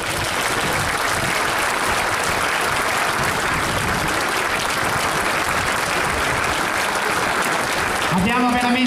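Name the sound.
crowd applause at Arma Aeronautica parade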